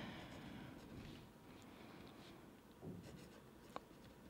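Pencil scratching across paper during a colored pencil sketch, a soft continuous rubbing texture with faint strokes and one small tap near the end, quiet and close with no talk.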